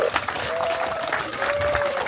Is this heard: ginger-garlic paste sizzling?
no